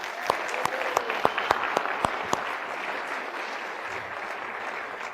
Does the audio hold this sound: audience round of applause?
yes